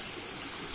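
River water churning below a stone dam, a steady close rushing roar in a brief, unbroken burst.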